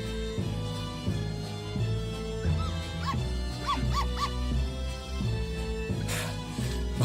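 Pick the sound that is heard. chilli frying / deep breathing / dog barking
dog barking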